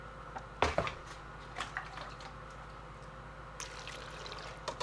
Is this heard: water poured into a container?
yes